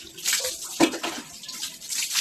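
Bathwater is poured over a small boy at home, a soft splashing rush that swells and fades in a couple of short pours, fairly close and moderately quiet, with a brief splash in the middle.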